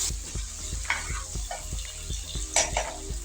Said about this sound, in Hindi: अब आलूओं को अच्छी तरह मसाले के अंदर भून लूँगी।